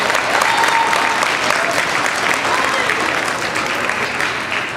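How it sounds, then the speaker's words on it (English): Applause from an audience at a children's grief awareness event, loud, continuous clapping from a large crowd that stays steady throughout, tapering slightly toward the end. "let's give them a big round of applause."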